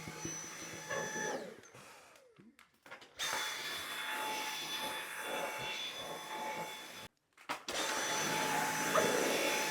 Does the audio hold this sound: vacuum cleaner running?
yes